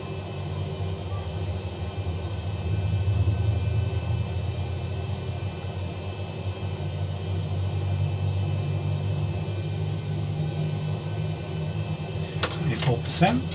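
An airliner's jet engine starts up in X-Plane 11, a steady low rumble and droning hum that holds throughout, with a brief burst of higher clatter near the end.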